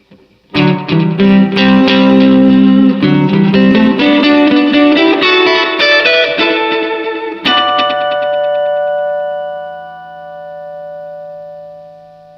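Bright plucked notes repeated through a Roland RE-201 Space Echo tape delay, the repeats smearing into a dense wash that fades slowly after the playing stops.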